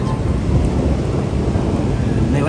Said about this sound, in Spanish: Un trueno terrible, me parece.